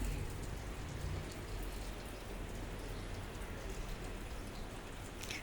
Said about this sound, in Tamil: சாரல் மழை அதுலேயே அடிக்கிறதுனால பூவெல்லாம் நிமிந்தே நிற்கலை தெரியுதா